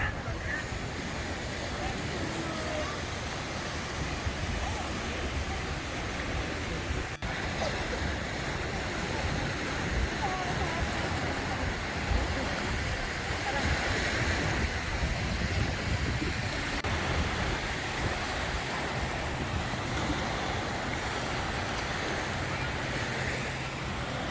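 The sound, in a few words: waves on White Beach, Boracay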